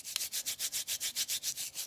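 Hands rubbed together with a pea-sized dab of exfoliating scrub, a soft gritty swishing in a steady back-and-forth rhythm of about a dozen strokes, close and fairly quiet with no talking.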